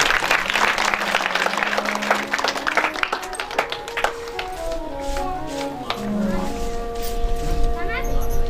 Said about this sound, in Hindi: एक बार बड़ी बात ताली बजाइए।